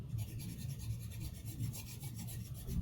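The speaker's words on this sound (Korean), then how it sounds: "저는 지금 4B 연필 한 자루로 그림을 그리고 있지만" A 4B pencil shading on paper, a close, continuous scratchy rasp of back-and-forth strokes with a gentle rhythmic pulse throughout and no talking.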